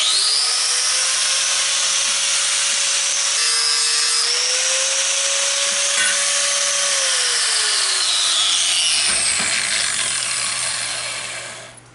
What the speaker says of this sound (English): now we're going to grind the bevels on these 4 pieces and then weld them